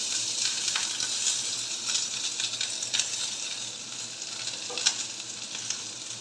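Chopped big onions are added to a pan of hot oil with spluttered mustard seeds and sizzle steadily, close and moderately quiet, with occasional scraping stir sounds and no talking.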